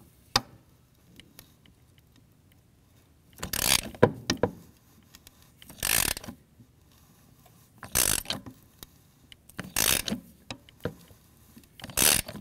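A socket wrench ratchets on a broken spark plug in a Ford 5.4L 3-valve Triton engine, heard close up in several separate bursts of rapid clicking with quiet pauses between them.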